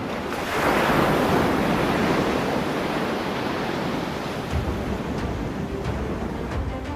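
Stormy sea on the Odisha coast during Cyclone Yaas, with heavy surf crashing and strong wind roaring in a constant loud wash.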